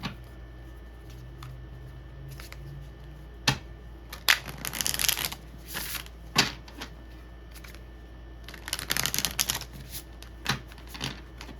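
Tarot cards are shuffled and drawn, with bursts of papery riffling and flicking separated by quieter pauses and a few soft taps, close and fairly quiet.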